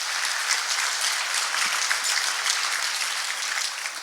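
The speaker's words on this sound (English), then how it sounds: "Let's give him a round of applause." A conference audience at an industry panel discussion applauds steadily, a dense, even patter of many hands clapping at moderate loudness from start to finish with no talking.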